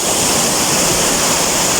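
Gethsemane Falls, a hidden waterfall, roars in a steady, dense rush of falling water close by, loud and unbroken throughout with no voices.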